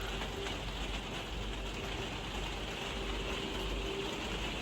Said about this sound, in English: It's starting to rain really loud again, sorry.